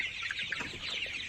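Broiler-type chickens on a poultry farm cluck in a busy, continuous chorus, close and steady, with no talking.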